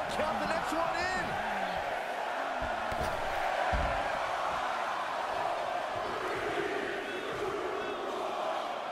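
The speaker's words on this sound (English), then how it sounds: "Listen to this crowd" Arena crowd noise from a WWE 2K23 wrestling match, a steady roar and cheer swelling under a commentator's continuous voice throughout.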